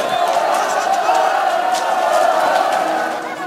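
A large, swelling crowd marching on the Bastille roars in a dense, continuous wash of shouting and cheering, loud and close throughout.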